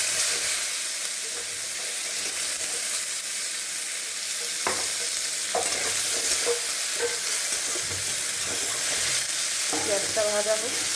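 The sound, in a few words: onion frying in oil with cumin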